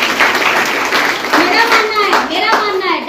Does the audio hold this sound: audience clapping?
yes